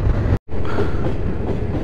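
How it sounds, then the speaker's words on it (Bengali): The Malda to Anand Vihar train arrives at a station, a loud, close rumble of rolling rail cars with wheel clatter and a brief dropout partway through. "দেখতে দেখতে ট্রেনও চলে এলো।"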